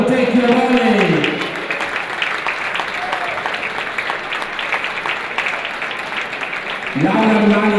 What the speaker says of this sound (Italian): Ancora un applauso al Montecchio Volley.